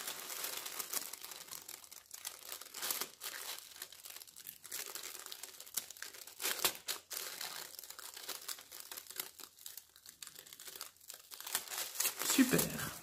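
Kraft paper wrapping from a craft subscription box being unwrapped, with close, continuous crinkling and rustling of stiff paper and a louder burst of tearing and crumpling near the end, someone speaking in French over it.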